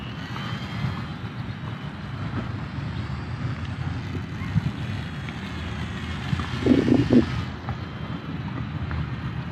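A QIDI-560 micro RC plane flies outdoors, its small motor a steady whine under broad wind noise throughout, with a brief louder burst near the end.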